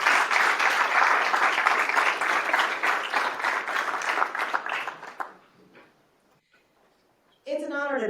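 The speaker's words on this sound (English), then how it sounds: "All of our GCAP members, please stand at this time. Let's give them a round of applause." Audience applause for standing committee members at a livestreamed event, dense and sustained for about five seconds, then fading to near silence before a voice begins speaking.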